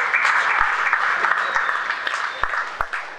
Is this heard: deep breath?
no